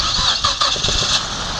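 A Mazda CX-7 engine cranks and tries to start after a top overhaul and timing job, giving a short, rough burst of mechanical churning up close while people talk over it.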